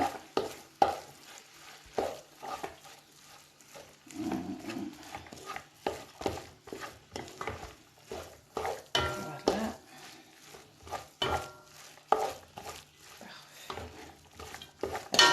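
Crab and okra sauce being stirred in a cooking pot, with repeated scraping and clanking strokes of a utensil against the pot over a soft bubbling sizzle, fairly close and without talk.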